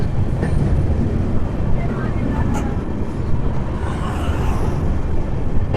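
Amrit Bharat Express train crossing the Farakka Barrage, a continuous rattling rumble of wheels on track heard from inside the carriage, with occasional faint clicks and brief voices in the background.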